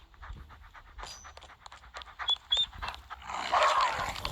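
A dog in a video game pants rapidly and rhythmically at close range, with a few soft whimpers, the breathing growing louder and harsher toward the end.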